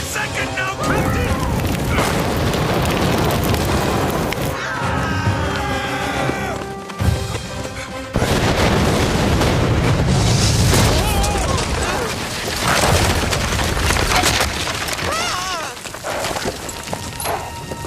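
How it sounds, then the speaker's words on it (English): A mine blows up in an animated action series, a loud booming blast with rumbling debris over dramatic score, the roar swelling and continuing for several seconds. "It's going to Blow any second now, Captain!"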